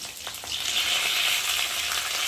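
Fried potatoes sizzling steadily in a pan as green chilli and other spices are added, a close, continuous hiss with a few faint stirring taps and no talking.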